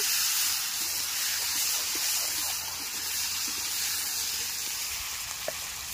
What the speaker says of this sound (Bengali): আলুটাকে আমি একটু ব্রাউন কালার করে ভেজে নেব